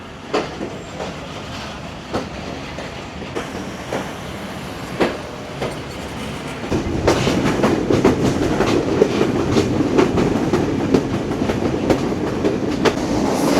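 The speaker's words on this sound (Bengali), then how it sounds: "এটা হচ্ছে বাংলাদেশের লোকাল ট্রেন, কালারটা টোটালি আলাদা।" A Bangladeshi local passenger train rumbles along with rhythmic clickety-clack of wheels over rail joints, growing louder and denser about halfway through as it picks up speed. No voices.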